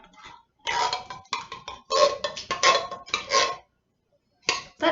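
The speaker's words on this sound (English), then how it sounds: "I have a spoon here to help me get it out of the can" Metal spoon scraping and clinking against the inside of a can to get cream of mushroom soup out, in several short bursts of scraping with brief pauses, close and fairly loud.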